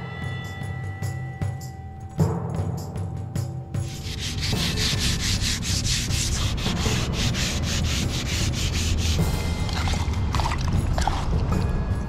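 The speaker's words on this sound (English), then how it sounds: "And I wet sanded and I wet sanded" Steady hand wet sanding of paint on a boat with a gritty rubbing scrape, continuous and close, starting quieter then growing louder and denser with repeated strokes.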